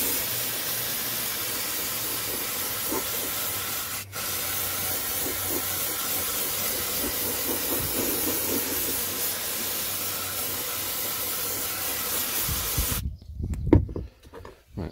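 Aerosol can of sound deadening coating spraying onto a Toyota Carina, a loud continuous hiss that runs for about thirteen seconds, then stops abruptly, followed by faint handling noises.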